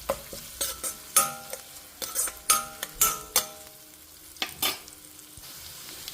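Onions frying in a pan for a cabbage curry are stirred with a metal spoon, producing repeated sharp clanks and scrapes against the pan over a low background sizzle, close and fairly loud.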